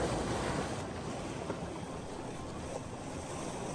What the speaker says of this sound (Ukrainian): Ти чув шум моря?